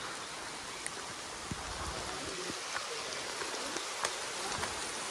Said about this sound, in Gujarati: વરસાદ હવે વધ્યો છે